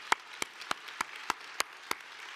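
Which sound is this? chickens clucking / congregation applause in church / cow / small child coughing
congregation applause in church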